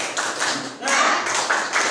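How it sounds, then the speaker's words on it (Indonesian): A classroom group performing a rhythmic spirit clap, short bursts of clapping in a patterned beat, close and moderately loud, in brief clusters separated by tiny pauses. "Tepuk semangat."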